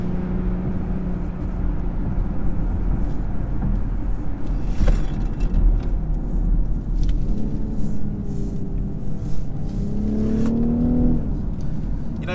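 A 2019 BMW X5 40i SUV with a B58 engine driving, heard from inside as a steady low rumble with engine tones rising under acceleration and a rising whine near the end.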